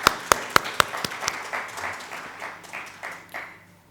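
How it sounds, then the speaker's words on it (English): At the ICAS 2023 conference, a few sharp, close claps open and quickly give way to softer, more scattered clapping from the audience that gradually fades. "A round of applause for everyone."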